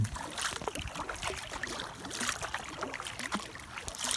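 Canoe paddling on a cold mountain pond, with soft irregular water splashes and drips from the paddle strokes. The sound is close and faint, continues steadily throughout, and no one speaks.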